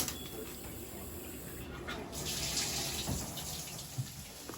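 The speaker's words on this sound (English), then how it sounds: "making sure the hot water is running properly." A hot water tap runs steadily during a home inspection, giving a continuous close hiss of flowing water into a sink for the whole stretch, with faint background voices.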